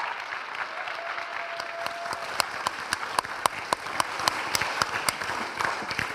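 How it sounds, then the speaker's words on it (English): A crowd applauds steadily, a dense wash of clapping with some sharp individual claps standing out, fairly far off and moderately loud. "Jackie Chan, please, can you give a round of applause to Jackie?"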